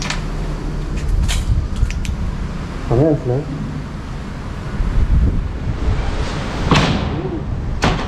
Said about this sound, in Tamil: ஆமாம், இது காற்று